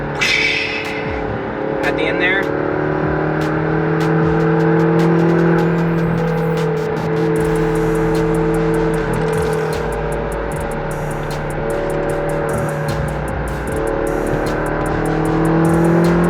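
A McLaren sports car engine idles with a steady droning hum, then revs up and down in smooth rising and falling swells, loud and close with some clicks and rattles.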